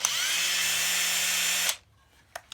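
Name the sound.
drilling wood with a Forstner bit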